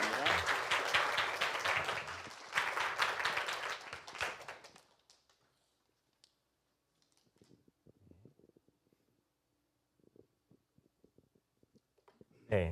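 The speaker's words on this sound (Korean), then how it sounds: "우리 큰 박수로 한번 환영하는 시간 갖겠습니다" Loud church applause welcoming a missionary to the front, dense clapping for about five seconds that fades out, followed by near silence with faint shuffling and a few quiet sounds, then a brief loud burst at the end.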